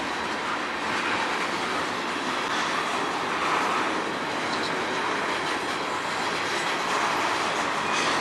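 A train moves slowly around into a rail yard in Sarnia, Ontario, with a continuous, fairly loud rolling rumble and steady wheel noise throughout and no voices.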